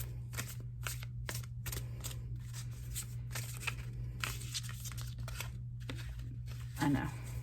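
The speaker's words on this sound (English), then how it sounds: "So don't laugh if I'm shuffling them super funny." Repeated rapid riffling and slapping of large tarot cards being shuffled, in quick bursts over a steady low hum, with a brief voice near the end.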